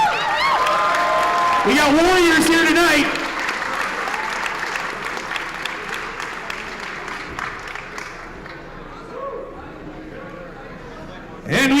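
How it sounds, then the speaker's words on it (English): Crowd applause and cheering for two fighters after a bout ending in an armbar tap at a live fight event, loud for the first few seconds then easing off, with an announcer speaking over it. "Give them a round of applause, guys."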